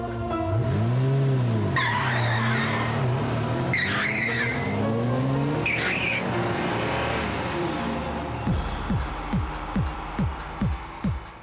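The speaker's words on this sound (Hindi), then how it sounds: "इरावती, जल्दी गाड़ी में बैठो" A car speeds off with its tires skidding and squealing, the rising engine roar loud and close, then a run of sharp rhythmic pulses as it accelerates away, with no talk over it.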